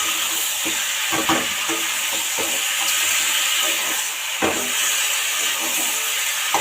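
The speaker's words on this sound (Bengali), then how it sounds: "এবার পেঁয়াজের সাথে চিকেনটা ভালো করে আমি হাই ফ্লেমে 10 মিনিট মতন ভেজে নিচ্ছি" Chicken and onions frying on a high flame, a loud continuous sizzle with occasional stirring scrapes and clacks of a utensil in the pan.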